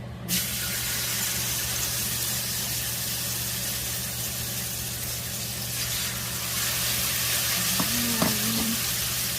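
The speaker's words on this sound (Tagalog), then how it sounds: "iprito natin yung talong" Eggplant frying in a pan for Filipino tortang talong, a loud constant sizzle close up with faint stirring and a short scrape near the end, no talk.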